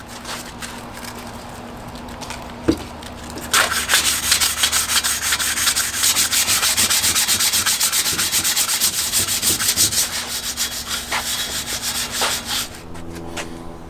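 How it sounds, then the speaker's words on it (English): Hand sanding with 150 grit sandpaper on a hitch basket part being prepped for paint, a rough rhythmic rubbing that starts after a quiet stretch and a single knock, then continues in dense back-and-forth strokes before stopping. "We're gonna start out with 150 grit sandpaper."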